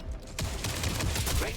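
A sharp burst of gunfire from the video game Jump Ship bursts in after a brief quiet lead-in, a loud rapid volley of shots that rattles on to the end.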